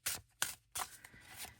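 Oracle card deck being shuffled by hand, three sharp riffling bursts close up followed by softer rustling, quiet and alone.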